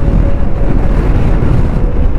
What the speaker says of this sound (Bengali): পুরো ধুলো ঝড় চলছে।